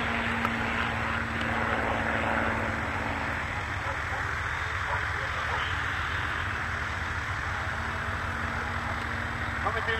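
A propeller airplane flies at a flying-school anniversary air show in Ajdovščina, a steady engine drone that lingers across the scene while people talk.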